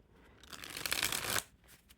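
A deck of playing cards is riffled close by, a quick papery flutter building to a crisp burst, then quiet.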